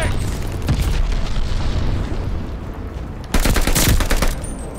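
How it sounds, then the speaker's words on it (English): Glide bomb explosion in the shooter game Call of Duty: Vanguard on a Berlin map: constant roaring rumble and scattered gunfire, then a sudden loud, broad blast near the end that lingers briefly. "Enemy glide bomb incoming."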